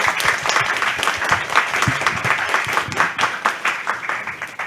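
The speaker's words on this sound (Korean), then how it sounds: "큰 박수를 치면서 개회를 하도록 하겠습니다." An audience at a startup demo day event claps to open the session, producing brisk, continuous applause with individual claps audible. Fairly close and steady throughout.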